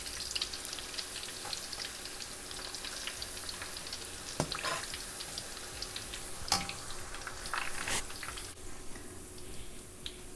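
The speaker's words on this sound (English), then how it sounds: "you can see it's less bubbling, and the ginger and the scallion gets dried up in the oil" Scallion and ginger frying in oil over medium-low heat for homemade chili oil, a steady close sizzle and bubbling with occasional sharper pops.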